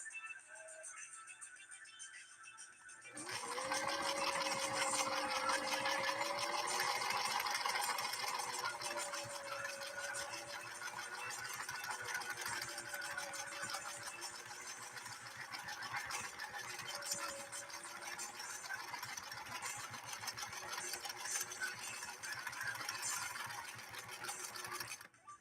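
A 1968 Singer Model 626 sewing machine stitches through leather with a loud, steady mechanical whir that starts after a few seconds of quiet and runs continuously, with a slight rhythmic wavering in pitch.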